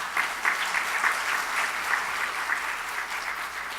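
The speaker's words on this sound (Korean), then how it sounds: "박수 한번 하십시다" A church congregation applauds during a Sunday evening service, with steady, dense clapping that holds at an even level throughout and no speech over it.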